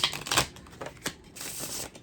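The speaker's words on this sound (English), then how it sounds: "this deck is Legacy of the Divine Tarot. I like the size. Cardstock's a little flimsy, but it shuffles really nice as you can see" A Legacy of the Divine Tarot deck with slightly flimsy cardstock is shuffled up close. It gives quick, papery riffles and soft flicks in uneven bursts.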